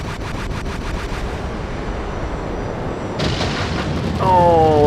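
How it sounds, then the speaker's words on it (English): Explosions rumble and boom continuously in the video game Mecha Knights Nightmare, a dense roar of blasts that swells louder toward the end, with a rising whistling tone at the close. "It is funny just listening to like that sound and just everything just exploding."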